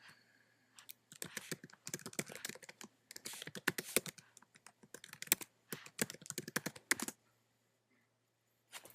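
Rapid clicky typing on a computer keyboard while entering a login, quiet and close, in uneven bursts of keystrokes with short pauses, stopping near the end.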